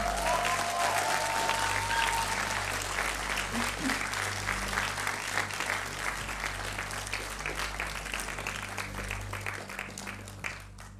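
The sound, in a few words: audience applause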